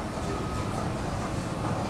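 A metro train passing as a steady, dense rumble and roar with no distinct clacks, fairly loud and continuous throughout, with no one speaking.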